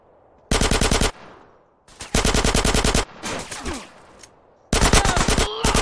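Uzi fire in GTA San Andreas Remastered comes in four loud, close bursts of rapid automatic shots separated by short pauses, with one bit of game voice between them.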